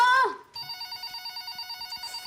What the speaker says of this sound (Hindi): फोन भी अभी बजना था।